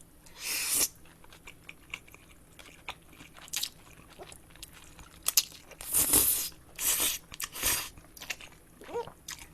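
Cheese oven spaghetti served with pizza is eaten close to the microphone, with a run of wet bites, chewing and slurping bursts spread across the stretch.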